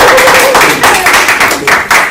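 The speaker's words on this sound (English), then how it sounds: "So we're going to clap for them" Loud clapping fills a school board meeting room as staff and students are honored, a close, lively patter of many hands with rhythmic surges and a faint voice briefly underneath.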